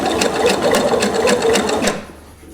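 A sewing machine stitches shirring rows with elastic thread on fabric, a rapid close mechanical chatter with regular needle thumps for about two seconds before stopping abruptly and fading to quiet.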